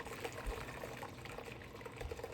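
Kefir is poured out of a jar, a quiet liquid glugging and trickling with soft irregular splashes close by.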